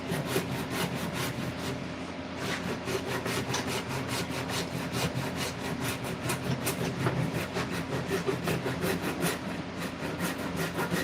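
Edges of a wooden axe handle are chamfered with rapid, rhythmic rasping strokes, a steady close scraping of tool on wood running throughout without speech.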